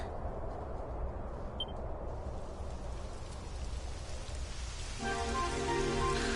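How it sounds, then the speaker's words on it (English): Steady rain hissing on surfaces in the video game Dragon Quest XI, soft and continuous, with a faint tonal hum entering near the end. "It would have to go and start raining, wouldn't it?"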